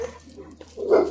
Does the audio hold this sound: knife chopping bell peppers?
no